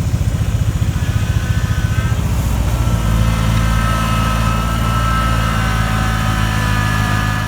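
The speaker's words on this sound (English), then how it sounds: "with a little bitty front end loader like this," A small front end loader's engine runs steadily up close at a barn house foundation excavation, a loud, continuous throbbing drone with no pauses.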